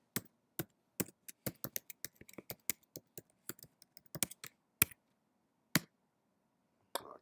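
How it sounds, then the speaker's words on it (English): Quick, uneven keystrokes tap on a computer keyboard as a password is typed, crisp close clicks with short pauses between bursts. "I'm going to put my password in."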